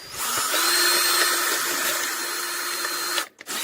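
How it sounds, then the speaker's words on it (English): A power drill bores a hole through the bottom of a plastic minnow trap, giving a steady, close whine that holds for about three seconds before cutting off abruptly, then briefly restarting. "Now all we're going to do is drill a hole straight through this bottom thing here."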